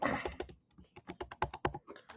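Keys clack on a computer keyboard as a username and password are entered, a quick irregular run of soft close taps with a brief pause partway through, quiet and alone.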